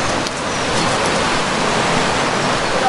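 Constant loud rush of water pouring through a mill race by a river near Victorian-era waterworks, a dense, steady roar of churning flow close by with no talking.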